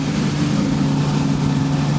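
Twin boat engines totalling 600 horsepower drone steadily at about 4,000 RPM while the boat cruises at 30 knots on a delivery from Torquay to Southampton, heard close and continuous with a strong low hum and wash noise.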